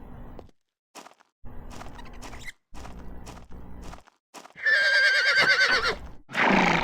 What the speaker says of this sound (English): Okay, lots of horsey noises.